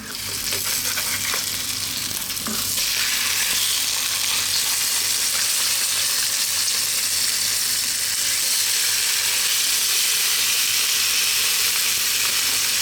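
Thick salmon fillets, about 1.5 inches, frying gently in a pan, giving a continuous, even sizzle and hiss with a faint stir or scrape near the start, close and steady without any talking.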